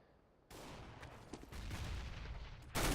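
Auto sniper gunfire during a Counter-Strike match comes as a quick series of sharp shots over a busy background of game noise, ending in one loud burst.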